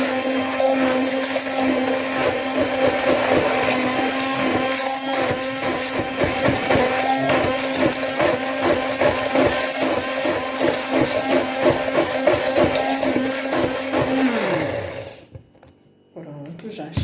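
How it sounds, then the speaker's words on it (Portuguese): An immersion blender whirs loudly and steadily at a constant motor pitch while mixing ingredients, then winds down and stops near the end; a voice speaks over it. "E com a varinha mágica, vai bater os ingredientes"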